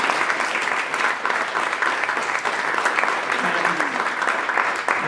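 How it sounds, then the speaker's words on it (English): Steady, full round of audience applause for the speakers at a product meetup, dense and even from start to finish with no pauses. "I think we can give like a huge round of applause for our speakers tonight."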